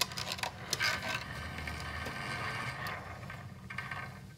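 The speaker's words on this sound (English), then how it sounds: "disengage your clutch so that way you can free spool the wire rope out" A Warn winch drum free-spools its wire rope with the clutch disengaged, giving a continuous low mechanical whir and rattle with faint ratcheting clicks, close and fairly quiet.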